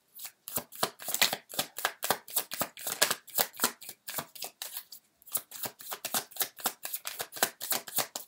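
A deck of tarot cards is shuffled up close: a steady stream of quick, crisp riffling snaps and flicks for several seconds, with one short pause partway through. No voices are heard.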